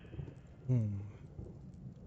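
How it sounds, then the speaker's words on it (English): A storm in the VR puzzle game A Fisherman's Tale: quiet, steady rain hiss with a brief swelling low rumble of thunder near the middle, heard alone. "Storm's coming through."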